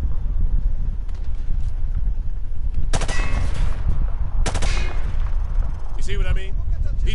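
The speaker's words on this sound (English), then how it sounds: "He sprayed bullets all over the damn place" Automatic weapon fire from the hip in Call of Duty Modern Warfare, two loud sustained bursts followed by a shorter rattle, over a constant roar of wind-like background noise.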